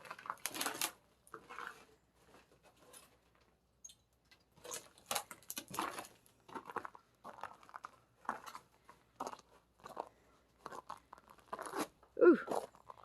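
Footsteps crunch across ground glazed by an ice storm, each step a sharp, brittle crackle in an irregular walking rhythm, close to the microphone with quiet pauses between treads.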